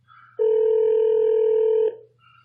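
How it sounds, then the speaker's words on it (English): A single steady telephone tone, likely a dialing or ringback signal on an outgoing call to a seller, sounds loud and close for about one and a half seconds over a faint low hum. "we're gonna call her"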